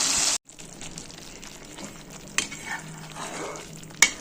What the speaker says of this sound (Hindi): ये देखो अच्छे से फ्राई हो गया